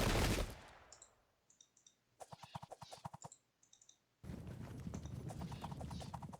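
Volley fire from troops in the Sengoku Jidai strategy game: after a loud opening blast, a fast crackle of sharp shots ripples out, then a broader sustained roar of firing, mid-distance and fairly quiet.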